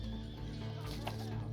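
A horse in a video game neighs with a short whinny over dense, steady game sound, alongside clip-clopping hooves.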